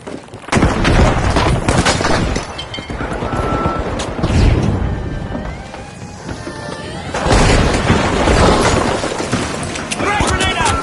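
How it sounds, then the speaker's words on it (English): A frag grenade explodes in a combat video game, with heavy booming blasts among dense gunfire and crashes. It is loud and continuous, with voices faintly mixed in. "Frag grenade set."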